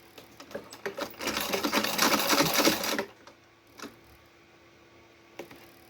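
A sewing machine runs in a close, rapid two-second burst while stitching fabric trim onto a dish towel, then stops, leaving a few faint clicks and a quiet room.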